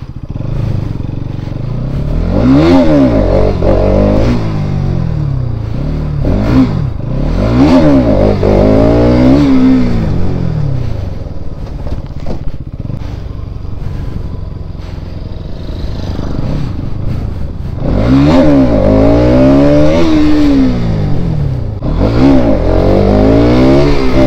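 A Bajaj Pulsar NS200 motorcycle revs hard in repeated surges during wheelie attempts, each climb rising and falling before easing back. It is loud and close, with brief quieter stretches between the bursts.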